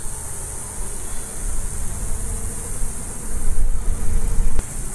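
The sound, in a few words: honey bees buzzing in an open hive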